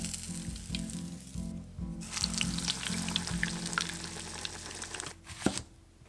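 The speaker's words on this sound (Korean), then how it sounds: "돈가스 한 장씩 튀겨 주었습니다." Pork cutlets for tonkatsu deep-frying in a pot of hot cooking oil, one at a time, with a steady close bubbling sizzle and crackle throughout and a brief louder spatter near the end.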